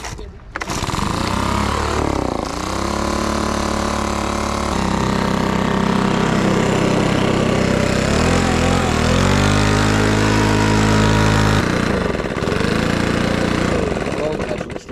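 A petrol lawn mower engine, started with a primer bulb and choke, runs loudly and steadily for the whole stretch with a dense mechanical drone and slight surges, while people talk nearby.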